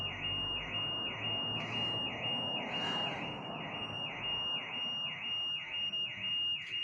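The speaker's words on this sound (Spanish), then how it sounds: "Mirá cómo empezó a sonar una alarma." An electronic alarm sounds a rapid, repeating warbling tone in even cycles, steady and fairly loud from start to finish, with no voices.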